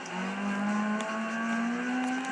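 A front-wheel-drive race car in Gran Turismo 5 oversteering, its engine holding a steady rising whine with a faint tire scrub and a brief knock near the end.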